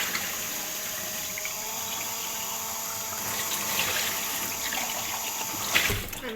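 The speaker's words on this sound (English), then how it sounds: "that's the sound of the sink" Water runs steadily from a kitchen sink tap while dishes are washed, a continuous close splashing flow with faint clinks near the end and no talking.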